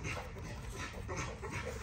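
An American Bully dog whimpers quietly, with faint, soft whines and breathy sounds under steady background noise.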